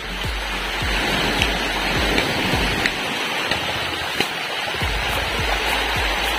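Loud, constant rush of strongly flowing natural water close by on an island, with occasional splashes and low thumps breaking through the steady noise.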